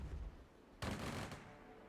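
A platoon volley of musket fire erupts in a video game battle, one sharp massed crack followed by a rolling burst of shots that tails off, standing out loudly over quiet ambient background.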